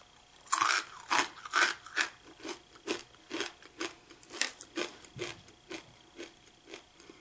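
Steady, rhythmic crunching of hard roasted Peruvian corn kernels being chewed close up, loud crisp bites repeating roughly every half second with no talking.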